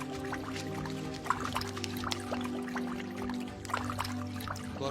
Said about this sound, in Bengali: এই তো জলের সাউন্ড আসছে